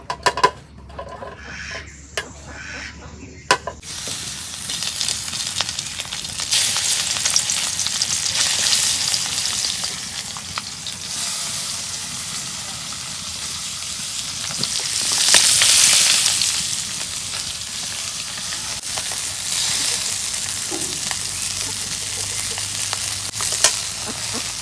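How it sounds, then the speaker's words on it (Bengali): Taki fish fry in oil in a pan over a clay stove, giving a loud, continuous hiss and crackle that swells midway, with occasional clicks of a utensil, close by and with no talking. "টাকি মাছ ভাজা হয়েছে"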